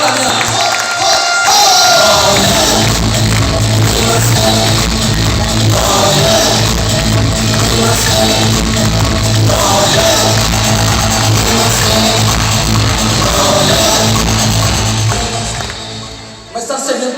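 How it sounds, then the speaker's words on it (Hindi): A large crowd at a diamond celebration event in Bihar Sharif cheers and claps loudly and without a break for about sixteen seconds, with voices talking over the noise. "मैं चाहूंगा सर के लिए जोरदार तालियां"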